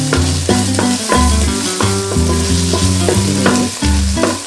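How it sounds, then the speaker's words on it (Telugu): Vegetable pieces fry in a hot pan with salt, turmeric and chili powder, a steady loud sizzle broken by repeated stirring scrapes in a loose rhythm, with no voices. "గుడ్డాకరాయి ముక్కలు ఉప్పు పసుపు కారం అన్నీ కూడా వేయించేసుకోవచ్చు."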